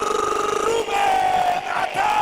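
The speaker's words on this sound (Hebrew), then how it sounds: "תשמעו את הקהל של מכבי חיפה" Maccabi Haifa football supporters at a stadium chant and roar in a sustained, loud mass of voices, with swelling tonal singing and cheers rising and falling.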